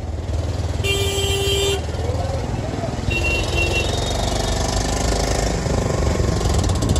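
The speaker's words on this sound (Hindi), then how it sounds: "यहाँ जाम आ गया, जाम का हालत हो गई है।" Busy Delhi street traffic jam with engines idling and rumbling close by, car horns honking in bursts, and voices talking over the din.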